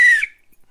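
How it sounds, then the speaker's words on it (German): A referee's whistle from a Bundesliga football video game sounds once as a short, shrill blast that cuts off after about a quarter second, followed by near silence. "Ich pfeife zur ersten Halbzeit an und los geht's"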